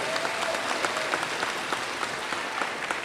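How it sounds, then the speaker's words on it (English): A graduation audience claps in a steady, fairly distant patter of many hands, fairly quiet and continuous throughout. "Ladies and gentlemen, please give him a round of applause"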